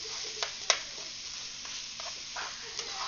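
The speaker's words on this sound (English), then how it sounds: "We're sizzling away." Fried rice sizzles steadily in a pan, a continuous frying hiss with a few soft scrapes and taps as it is stirred.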